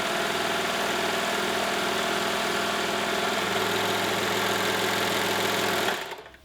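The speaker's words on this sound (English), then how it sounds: "I've got a piece of medium weight non-stretch denim here that I'm going to go ahead and sew." A Babylock overlocker stitches medium weight non-stretch denim, its motor humming and whirring steadily at high speed for about six seconds before winding down and stopping, close and fairly loud.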